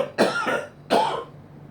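Two close, raspy coughs about 0.7 seconds apart from a person sick with a cold and fever, in an otherwise quiet space.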